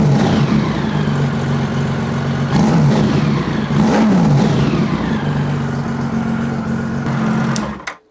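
Motorcycle engine with a freshly adjusted carburetor, loud and close, revving up and down in several throttle blips over a steady idle before cutting off abruptly at the end.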